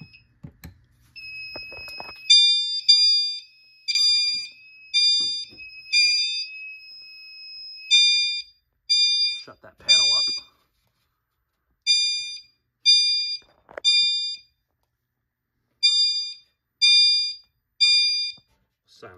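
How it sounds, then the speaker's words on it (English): A Silent Knight fire alarm chime strobe set off during a smoke detector test sounds as a loud, shrill, steady tone that breaks into repeated bursts of high electronic chimes, nearby and clear, with no talking. "hopefully you can hear the chime strobe better"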